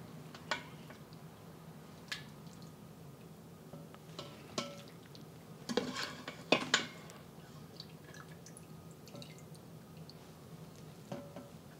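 Cooked pork with onion and ginger lifted out of a pressure cooker pot with utensils: scattered soft clinks, wet squishes and drips, quiet and close, with a brief cluster of louder scraping in the middle.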